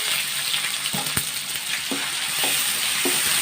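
Ginger garlic paste with crushed garlic and green chilies frying in a pan for goat intestine gravy, a steady close sizzle broken by several soft scraping stirs of a spoon, no talking.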